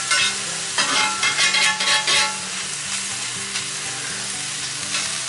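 Smoked sausage and mushrooms sizzle steadily on a cast iron griddle while a spatula scrapes and stirs in quick bursts, loud and close, with no voices.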